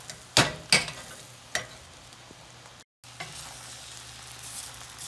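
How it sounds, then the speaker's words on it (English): Cabbage and bacon frying in a pan on a gas stove, a few sharp spoon knocks and scrapes over a soft continuous sizzle, with a brief dropout midway. "Stir all of that through."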